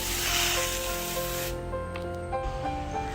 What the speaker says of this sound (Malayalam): ഇതിനകത്ത് വെള്ളം സ്പ്രേ ചെയ്ത് കൊടുക്കും